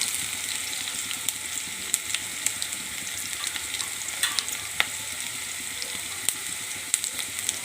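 Ginger pieces frying in a pan, giving a soft continuous sizzle with scattered sharp crackles and pops, fairly quiet and close, with no voices.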